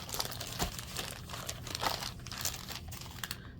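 Craft paper being rummaged through and crinkled close by, with irregular bursts of crisp crumpling and rustling and a few sharper crunches, no speech.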